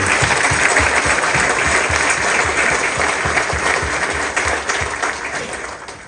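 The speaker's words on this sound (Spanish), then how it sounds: "Un aplauso a nuestro Santo Padre." A congregation applauds at a church novena for Saint Nicholas of Bari, a loud sustained clapping from many hands that slowly fades toward the end.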